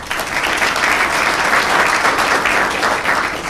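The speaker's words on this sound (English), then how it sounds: "I'll give them a round of applause." A conference audience at a Zweig Group Hot Firm 2018 panel gives the panelists a round of applause, loud, close and sustained, a dense patter of many hands from start to finish.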